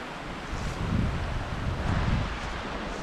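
Ketchum Run, a creek in Loyalsock State Forest, flows with a steady broadband rush of water and wind noise, swelling slightly in the middle, with no voices.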